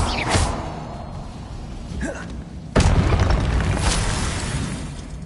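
A Confringo blasting spell in a wizarding video game as a Slytherin wizard: a couple of small whooshing pops, then a heavy, close explosion that rumbles and fades over a few seconds.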